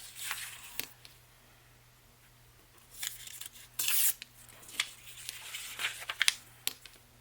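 Pages of a book are torn off by hand at close range for a watercolor collage, giving several brief, sharp ripping and rustling bursts separated by quiet gaps.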